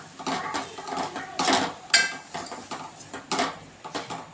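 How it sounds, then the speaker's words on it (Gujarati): Gram flour roasting over a low flame in a pan, stirred with a utensil, giving repeated metallic scrapes and clinks in irregular bursts, close and moderately loud. "ત્યારબાદ તેમાં ચણાનો લોટ ઉમેરીશું, તેને સારી રીતે શેકી લઈશું।"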